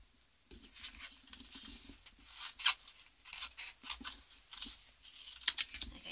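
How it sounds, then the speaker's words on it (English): Scissors snip and crunch through paper in quick, irregular bursts, close and quiet, with small rustles between cuts. "Grab my scissors now."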